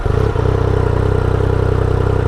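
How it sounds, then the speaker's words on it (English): A 2017 Yamaha FZ-09 motorcycle engine idles steadily in neutral, a close, continuous low throb with an even pulsing rhythm and no talk over it. "let's take a listen to this bike. We're in neutral and 2017 FZ-09."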